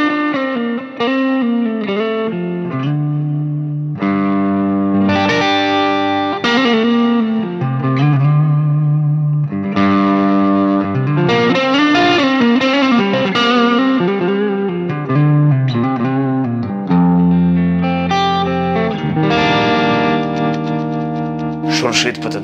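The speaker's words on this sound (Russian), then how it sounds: "давайте проверим, как эта гитара звучит." A Kramer DMZ 2000 electric guitar with an aluminum neck plays loud, heavily distorted riffs and sustained chords, up close and continuous throughout, with effects and reverb on the tone.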